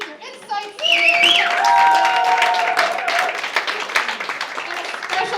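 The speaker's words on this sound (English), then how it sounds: "Let's applaud both teams for their energy, their insights" An audience at a team showdown event applauds, with a swell of clapping joined by whoops and whistled cheers that fades into scattered claps and crowd noise.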